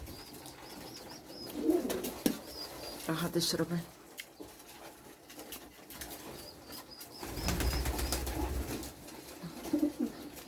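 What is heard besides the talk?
Romanian pigeons cooing in a loft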